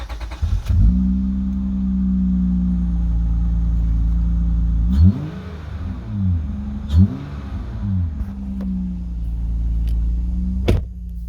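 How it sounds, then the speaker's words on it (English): An Acura TL engine cold starts with a quick crank, then settles into a steady, close idle that briefly revs a couple of times before dropping back. "start the video with a cold start"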